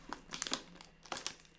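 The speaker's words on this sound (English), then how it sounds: "I opened up my little wafer snack tin." Crinkly metallic rustling and crumpling in two bursts with a pause between, close and fairly quiet, like foil wrapping being handled.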